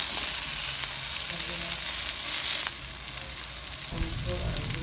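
Tomatoes and green chili sauté in a hot oiled pan with a steady, bright sizzle that shifts and briefly drops as the ingredients are stirred, with no talking.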